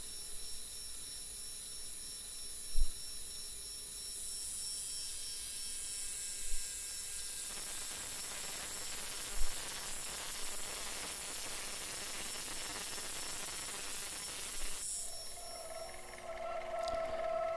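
A machine cutter works on a brass clock mainspring ratchet, giving a steady mechanical whir with a few soft periodic thumps, then a brighter change in tone near the end.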